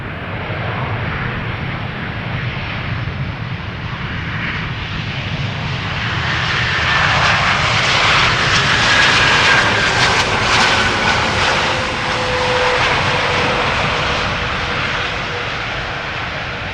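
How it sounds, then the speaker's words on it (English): A Turkish Airlines Airbus A330-300 jet arrives at Schiphol from Istanbul, its engine roar swelling to a loud peak with whining tones in the middle before easing slightly, heard alone. "Turkish A330-300 flight 1957 arriving from Istanbul"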